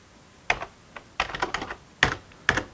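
A phone number being entered on a computer keyboard, heard as close, crisp key clicks in small irregular bursts, separated by brief pauses.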